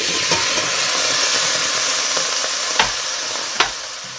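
Tomatoes sizzle and fry in a pan with tomato puree, a steady bright hiss with a few sharp spits and pops as the mixture is stirred, close and fairly loud, with no talking.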